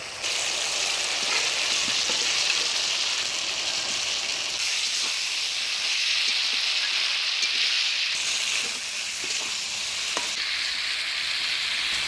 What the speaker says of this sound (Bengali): এবারে দিয়ে দিচ্ছি ভেজে রাখা আলু আর টমেটো